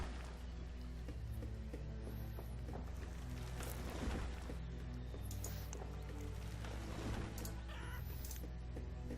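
Chickens in the video game Banished cluck and squawk over a steady low hum, with a few higher bird calls scattered through.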